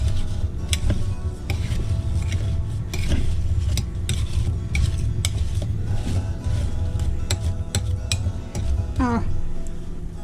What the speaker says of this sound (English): Stir that up to mix it.